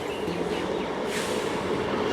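A local train at Sealdah station rumbles steadily and continuously at close range, with a brief brighter rush of rail noise partway through and no talk.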